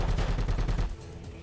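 Rapid gunshots in Bad Boys: Miami Takedown rattle off in a quick burst of about eight loud, close cracks, then cut off into quiet.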